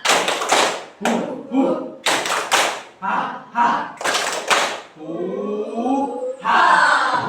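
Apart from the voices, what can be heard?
children clapping hands in rhythm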